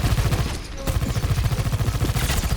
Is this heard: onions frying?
no